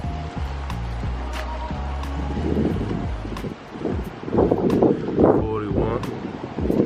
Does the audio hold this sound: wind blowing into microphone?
yes